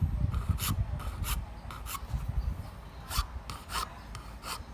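Small file trimming a metal amulet casing, heard as close, quiet, irregular rasping strokes in short bursts, with no speech.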